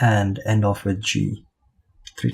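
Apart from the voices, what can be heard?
None of the usual background noises is heard.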